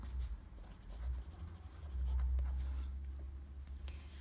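A hand writing a Chinese character, pen strokes faintly scratching on a surface over a low steady background rumble.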